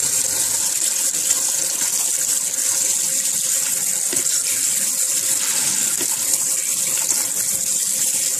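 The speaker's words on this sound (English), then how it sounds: "While the fish is marinating, let's drain and rinse the mushrooms." Mushrooms are rinsed under a running kitchen tap, with a steady, loud gush of water splashing continuously into the sink throughout and no talk.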